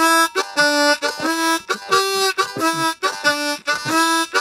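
Tongue-blocked blues harmonica plays a rhythmic groove of short, punchy draw chords kept fairly quiet, about eight to ten clear bursts with brief gaps, solo with no talking.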